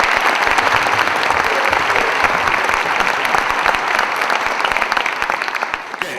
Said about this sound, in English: And Derek, can you give him a round of applause?